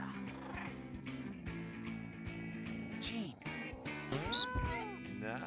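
Short synthetic cat meows repeat among busy game music and sound effects in No More Heroes 2.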